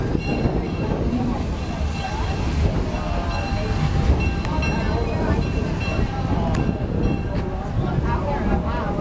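A Cedar Point amusement park train ride rolls along the rails with a steady rumble and rattling clatter throughout, squeaks and clicks from the cars rising now and then, while riders chatter in the background.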